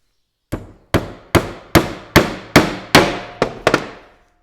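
A hammer drives 2-inch finish nails into pine wood while an old headboard is built into a storage bench. About nine sharp, ringing blows land close and loud at a steady pace, the last two coming quickly together, with no talking.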